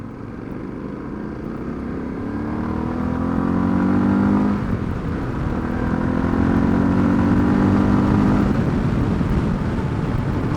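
A Suzuki DR650 single-cylinder motorcycle engine drones steadily while riding, its pitch rising and falling with the throttle under a constant rush of wind.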